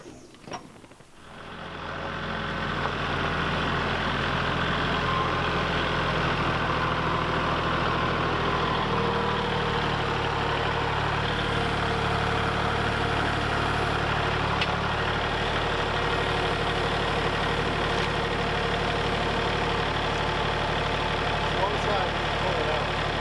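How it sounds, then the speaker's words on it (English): A tractor engine cranks and catches, then settles into a steady, loud low rumbling idle that continues unbroken for over twenty seconds. "I'm going to go ahead and get the tractor fired up"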